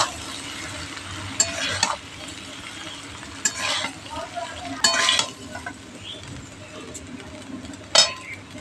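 Cooked, cooled rice is stirred into fried vegetables in a hot pan, a steady sizzle broken by several sharp clinks and scrapes of a utensil against the pan.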